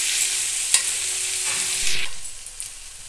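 Chopped ingredients being stir-fried in a pan until golden for a cauliflower paratha filling, a steady bright sizzle with a few sharp scrapes and taps of a spoon, fading toward the end.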